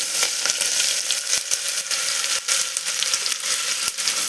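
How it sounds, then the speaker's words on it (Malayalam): Onions frying in oil inside a pressure cooker, a steady close sizzle with scattered crackles and pops throughout, no talking. "കുക്കറിൽ ഇച്ചിരി ഓയിൽ ഒഴിച്ചിട്ട് ഒരു 3 മീഡിയം സൈസിലെ സവാള അതൊന്ന് വറുത്തെടുക്കാം."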